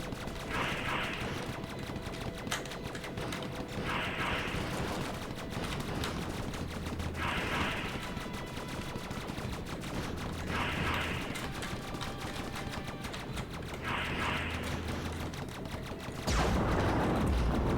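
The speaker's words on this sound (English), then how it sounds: "this aircraft that keeps shooting spinning shots" Gunfire from rotating guns on an aircraft in the shoot-'em-up game Platypus, spraying spinning shots in repeated bursts of rapid firing roughly every three seconds over a constant mechanical game backdrop, with a louder burst at the end.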